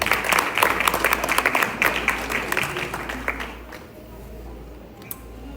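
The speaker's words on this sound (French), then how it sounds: "Je vous prie de les applaudir chaudement" An audience applauds a jewellery designer, with dense rapid clapping that is loud at first and then thins and fades to a few scattered claps, while a voice talks underneath.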